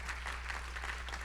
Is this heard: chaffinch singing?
no